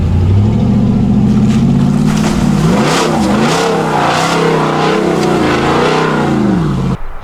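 A lifted truck on a Rough Country lift kit is pushed hard off-road, its engine revving loudly and close by, the pitch climbing and falling in surges throughout with no talking.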